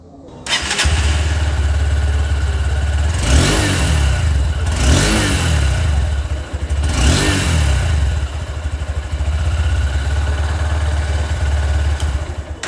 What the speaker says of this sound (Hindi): तो कुछ इस तरह का हॉर्नेट का एग्जॉस्ट साउंड है।